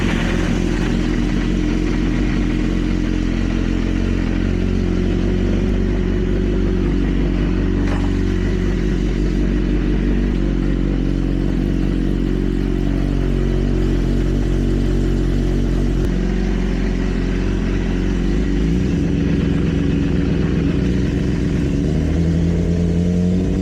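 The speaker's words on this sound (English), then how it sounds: "We'll start her up, put her in gear, see if she spins." A rebuilt BMW S1000RR sport motorcycle runs in gear with its rear wheel spinning. A loud, steady, close engine drone holds throughout, its tone shifting slightly near the end.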